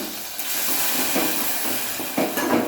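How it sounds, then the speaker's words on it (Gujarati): Green chillies sautéed in a pan for a mixed vegetable dish, giving a steady loud hissing sizzle with a few brief bursts of stirring. "આમાં લીલા મરચાં લીલી મિરચી નાખી અને થોડું સાંકળી લઈએ"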